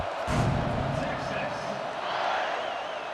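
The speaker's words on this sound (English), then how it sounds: "this crowd is buzzing after that last score" A stadium crowd in the EA Sports College Football 26 video game buzzes loudly after a score, a dense roar of cheering that sits under an announcer's commentary.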